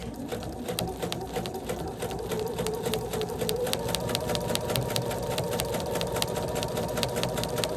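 A sewing machine stitches thick Sherpa fabric at a slow, steady pace, its rapid needle ticking and motor whir running continuously up close, growing slightly louder partway through.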